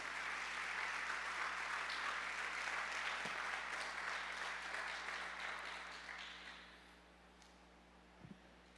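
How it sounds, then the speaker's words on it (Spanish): Church congregation applauding God during a sermon, a strong sustained round of clapping that thins out and fades after several seconds, followed by a quiet tail with a couple of faint knocks. "Dale un fuerte aplauso a su Dios, su casa."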